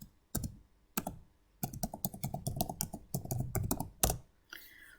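Fast typing on a computer keyboard entering an email address and password, heard as bursts of crisp close keystrokes separated by short pauses, with no talking.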